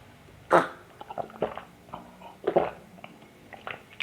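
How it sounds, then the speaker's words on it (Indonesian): A close-miked gulp of water, a few soft throat and mouth clicks standing out against a quiet background, set up as a mukbang-style eating sound. "aku nelan air"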